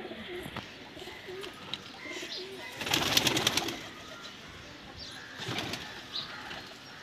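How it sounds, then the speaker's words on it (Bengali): A racing pigeon released from a loft in Howrah, Kolkata, makes a burst of wing flapping midway, with soft coos and other pigeons nearby, moderately close and without talk. "বাহ, 6 নম্বর পায়রাটা ছাড়া হলো।"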